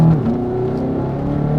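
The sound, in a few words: BMW X5M F85 driving in comfort mode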